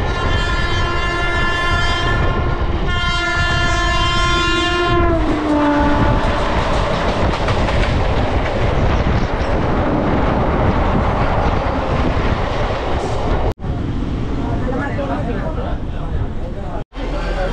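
A local passenger train departs Ichhapur station on a suburban line out of Sealdah, sounding its horn in two long blasts before the steady rumble and rattle of the carriages takes over, loud and close.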